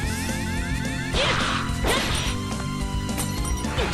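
Stained glass enemies smash and whoosh through attacks in Rosenkreuzstilette Grollschwert, loud crashing bursts and swishes over looping game music with chiming tones.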